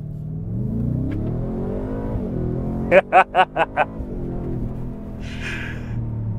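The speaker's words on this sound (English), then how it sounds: "all you want to do is listen to that engine note. And it's such a glorious engine note" The supercharged V8 of a 2023 Ford F-150 Raptor R rumbles and then blips through several sharp, loud revs in quick succession, with a faint voice briefly heard afterward.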